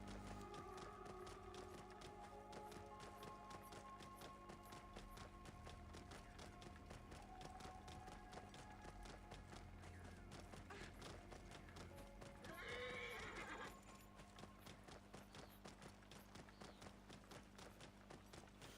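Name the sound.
camel ridden in a video game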